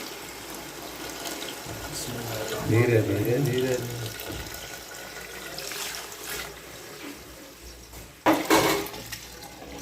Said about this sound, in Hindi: अभी जो है देखें ये पानी डाल रहा है भाई,